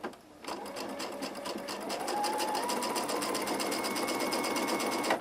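A sewing machine stitches a seam in fabric, starting after a brief pause and then running steadily at a fast, even rhythm, close and loud, with no talking.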